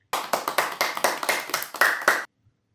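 Hands clap in a quick series of about a dozen crisp, closely spaced claps, loud and near, stopping abruptly into silence, during a children's Urdu sound-recognition exercise.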